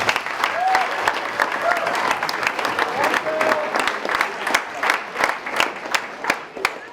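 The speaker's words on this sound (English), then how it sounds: "Nice round of applause for them." A banquet audience at a high school fall sports banquet applauds the kitchen workers: a sustained round of clapping with crowd murmur and a few whoops, sharp individual claps standing out near the end.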